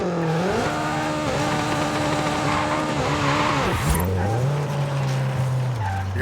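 A Honda S2000 in Forza Horizon 5 performs a reverse burnout, its engine revving hard while the tires squeal loudly and continuously, pitch sliding and dropping near the end.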